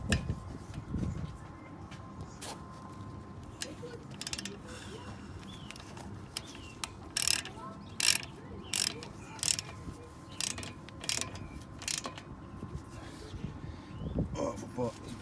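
Ratchet tightening the nuts on the front brakes of an Audi Q7 during a disc and pad replacement, heard as bursts of sharp clicking spread through the clip over a low background rumble, with a voice talking at times.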